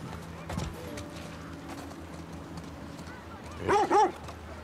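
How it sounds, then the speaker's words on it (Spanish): A dog in The Last of Us Part II gives a couple of short barks near the end, after a quiet stretch of faint ambient game sound with a soft thump early on. "Ahí va, un perro."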